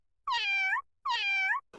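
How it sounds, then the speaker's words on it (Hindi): A cat gives two drawn-out, clear meows in succession, close and loud against silence, followed by a brief soft noise. "बिल्ली?"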